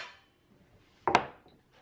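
A metal Pullman loaf pan picked up in a home kitchen while making white bread, giving one brief, close clatter of metal after a quiet pause, with faint handling noise at either side.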